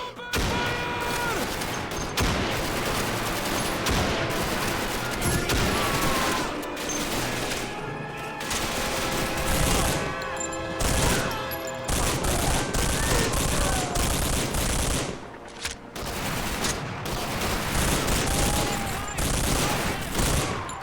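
Sustained machine gun fire in a Call of Duty 2 mod battle mows down charging German soldiers, dense overlapping bursts with booms and crashes, loud and continuous for about twenty seconds with a short lull, and no talk.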